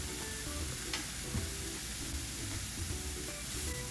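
Sides of a ribeye steak searing in a hot pan, a continuous dense sizzle with faint tonal hums and occasional soft pops, steady and close, no talking.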